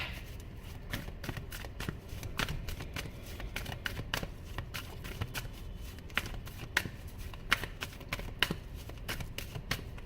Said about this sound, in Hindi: शफल कर रही थी कार्ड्स